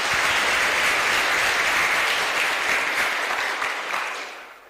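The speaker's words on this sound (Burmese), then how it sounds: "ကောင်းပါပြီကဲလက်ခုပ်တီးအားပေးပါ" Sustained audience applause at a Buddhist monk's sermon, dense and steady clapping that stays loud throughout before tapering slightly at the end, with no talk over it.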